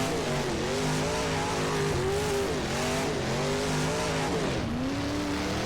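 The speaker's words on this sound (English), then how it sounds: "We're in the limiter at the end of the straight." A dirt modified race car in rFactor 2 holds its engine against the rev limiter in first gear at the end of a straight, a loud, continuous buzzing drone that stutters and bounces in pitch, with no voices.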